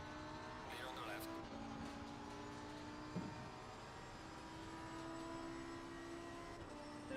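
A race car engine idles and drones steadily in an online racing game, a constant mid-level hum with a brief thump partway through and no clear revving.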